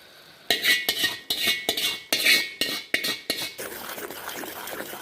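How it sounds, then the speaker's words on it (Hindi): A spoon repeatedly scrapes and clinks against a pan while sugar syrup is stirred into khoya, about eight distinct close strokes in a steady rhythm before fading into softer, quieter stirring. "इस खोए में जो हमने चाशनी बनाकर रखी है वो मिक्स कर देंगे"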